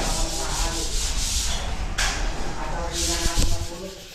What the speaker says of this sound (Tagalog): Liha.